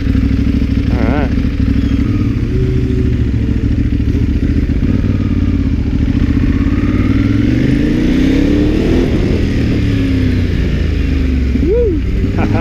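A 2014 Ducati Hypermotard engine rumbles steadily up close under constant wind and road roar, with faint rev swells and a voice speaking briefly over it.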